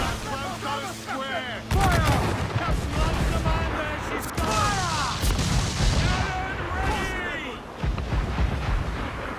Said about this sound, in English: Fighting these guys with the mortars. See if we can sink that ship.